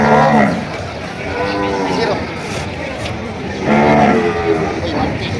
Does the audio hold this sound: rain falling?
no